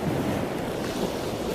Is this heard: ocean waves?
yes